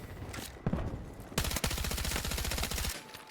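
Rapid automatic fire from a KORD-6P67 in Battlefield 6, a short burst followed by a long sustained volley of sharp, rhythmic shots, loud and close.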